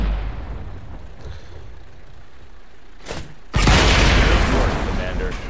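A tank cannon fires in the World of Tanks video game on Xbox 360: a sharp crack, then a loud, sustained explosive roar that rumbles on to the end over a low background hum.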